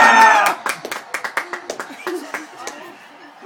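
A small group clapping after a boxing-style training fight, a quick run of sharp close hand claps fading out, preceded by shouting and cheering voices.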